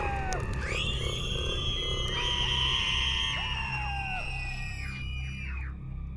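Horror sound effect of agonized screams rising from a burning building, several shrill wailing voices overlapping and sliding in pitch over a constant low roar, loud and sustained throughout.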